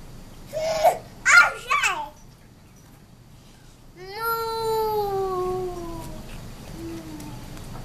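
A cat in a barn lets out one long, drawn-out meow that bends downward in pitch, preceded by a few short bursts of a child's babble and an adult's voice nearby.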